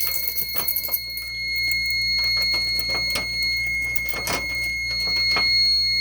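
A fire alarm panel sounds after a pull station trips, a steady high-pitched piezo tone holding over a faint hum, with scattered clicks and handling noises close by.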